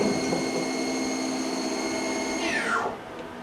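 A power tool, likely a lathe, whines steadily with a bright tonal hum while countersinking the end of an air gun Luer fitting, then winds down in pitch and fades near the end, close and loud.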